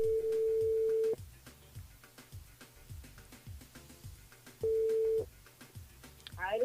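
A phone call placed to a radio show switchboard: two long steady ringback tones, one at the start and one near the end, with quieter studio noise and soft talk in the gap between them.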